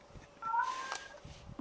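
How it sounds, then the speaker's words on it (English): A cat, mostly English Shorthair, lets out one loud, drawn-out meow that wavers in pitch and sits close and clear over a quiet indoor background. "that cat's loud"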